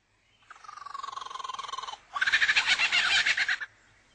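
A lyrebird imitates a kookaburra, loud and close: a steady run of rapid pulsed chuckles, then a louder, harsher burst of cackling that stops abruptly.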